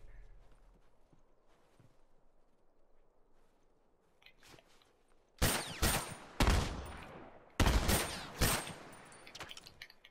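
Gunfire in The Last of Us multiplayer: two loud clusters of rapid close shots, each a few quick bangs, burst out after several seconds of quiet background rumble and faint scattered noises.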